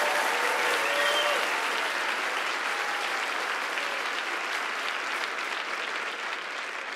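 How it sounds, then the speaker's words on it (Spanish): A church congregation applauds warmly during a worship service, a full, even wash of many clapping hands with a bit of crowd murmur, holding steady and easing slightly toward the end. "Yo creo que tú le des tu mejor aplauso, tu mejor ofrenda de alabanza, de gratitud"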